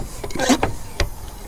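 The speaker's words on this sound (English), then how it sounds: "Can actually hear my old pump bleeding down a little bit." An old pressure brake bleeder pump, hooked to a Ford Crown Victoria for a fluid flush, bleeds down in a few short, faint whirring and hissing bursts over a quiet background.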